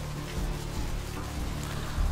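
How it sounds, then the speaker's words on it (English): Steady, close rain falls at night in the video game Vampire Bloodlines, a dense, even hiss of drops with no talking. "Guys, it's raining."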